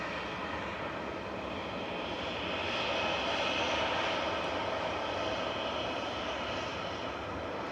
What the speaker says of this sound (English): It's Ryanair touching down from Madrid.